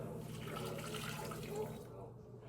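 Water pours steadily into a small cooking pot in a soup kitchen setting, a continuous close splashing stream that stops near the end, fairly quiet.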